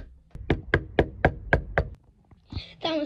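Six evenly spaced knocks on a door, sharp and fairly close, followed by a short voice.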